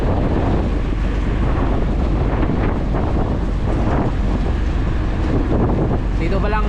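Strong wind roars steadily across the microphone at sea, with a constant rumble and washing surf underneath, loud and unbroken throughout.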